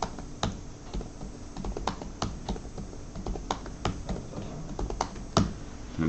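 Rapid, continuous typing on a computer keyboard in a room, with sharp clicky keystrokes and a few louder taps, steady and close throughout.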